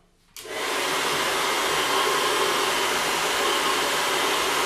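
A hair dryer switches on after a brief moment of quiet and then runs with a loud, steady, even airy roar to the end, with no voices over it.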